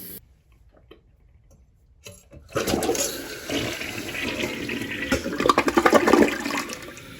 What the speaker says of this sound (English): Get some water running through there.